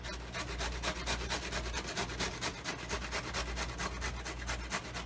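Cauliflower is rubbed against a hand grater in quick, even back-and-forth rasping strokes, close and steady for several seconds with no talking.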